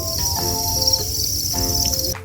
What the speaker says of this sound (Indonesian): Berikut ini adalah jangkrik indukan yang berkualitas untuk menghasilkan produktivitas yang maksimal.